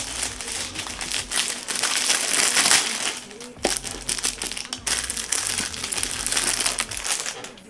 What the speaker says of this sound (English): Bubble wrap. Let's go ahead and rip this off right now.